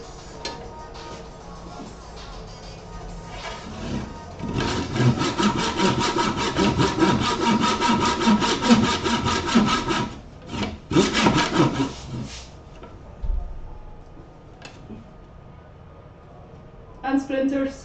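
A hand saw cuts through wood in steady back-and-forth strokes, a long rasping run followed by a shorter burst, close and loud, with quiet pauses between.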